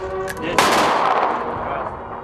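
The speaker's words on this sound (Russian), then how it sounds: "Под звуки выстрелов сердце генерал-лейтенанта Анатолия Шаповалова начинает биться чаще." Ceremonial gunfire rings out at an outdoor military commemoration: one sharp, loud blast followed by a long rolling echo, with faint sounds before it.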